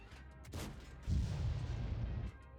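Medium tank cannon fire in a tank battle game on the Steppes map, a couple of muffled booms followed by a heavy sustained rumble lasting about a second, fairly quiet and with no speech.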